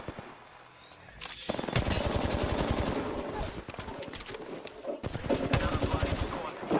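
Rapid automatic gunfire from the Apex Legends video game, loud bursts of repeated shots coming in several volleys with short pauses between them, close and dominant.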